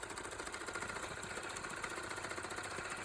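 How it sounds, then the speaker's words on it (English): A sewing machine stitches a small fabric pack for an EDC organizer, a rapid, even mechanical chatter that runs without pause. No voices. "It's time to sew this bad boy up"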